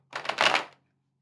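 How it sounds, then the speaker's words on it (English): A quick riffle of cards shuffling, close and crisp, lasting well under a second, then silence. "I'm shuffling one time"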